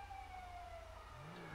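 Police car siren in the video game GTA Online, a faint steady wail with a slowly falling tone beneath engine rumble.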